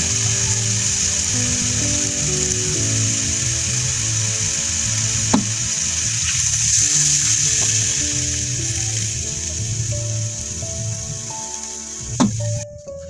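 Steady bubbling sizzle of liquid in a hot pan, continuous and close, with a couple of brief clinks near the end.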